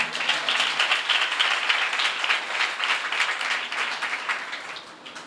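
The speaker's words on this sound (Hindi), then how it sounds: "बजाइए ना ताली" Church congregation clapping on cue during a prayer service, steady rhythmic applause throughout that tapers off toward the end.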